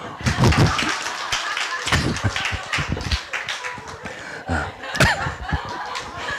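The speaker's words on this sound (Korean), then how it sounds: "박수 치세요" Church congregation clapping hands during a sermon: irregular bursts of claps mixed with laughter and chuckling, close and lively.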